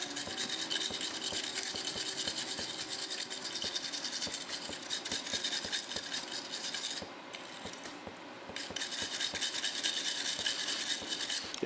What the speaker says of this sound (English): Do a little bit more scrubbing and then on to